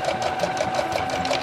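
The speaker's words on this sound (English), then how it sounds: "the machine's perfectly capable of pulling the fabric through, that's what they do" A sewing machine stitches apron fabric at a steady, rapid rhythmic clatter, close and continuous with no talking over it.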